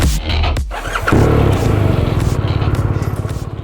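A BMW R1250RS boxer-twin motorcycle engine starts, then settles into a steady, loud, close rhythmic idle with even low pulsing beats.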